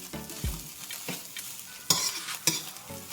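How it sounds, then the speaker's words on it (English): Fresh ginger frying in a pan while being stirred, with a steady sizzle broken by several sharp scraping strokes of the spoon. No voices are heard. "Keep frying it up."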